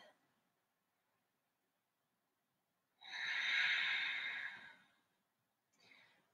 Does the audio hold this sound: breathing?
yes